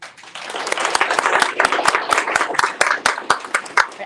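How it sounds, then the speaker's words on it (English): An indoor crowd at an annual employee awards ceremony claps loudly and steadily, with sharp individual claps and a few cheers rising through the dense applause for about four seconds. "I love all the enthusiasm and cheering"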